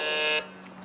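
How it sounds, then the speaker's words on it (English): A quiz contestant's buzzer sounds at an inter-school quiz grand final, a single loud, steady electronic tone that lasts under half a second and cuts off sharply. "Lyle Alva has gone for the buzzer on the 2-minute revolution"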